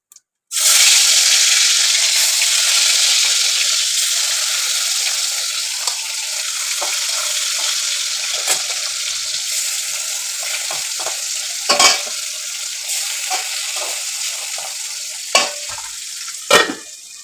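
Loud, continuous sizzle of pabda fish frying in oil, starting abruptly and running steadily, with occasional scraping clatters of a spatula against the pan.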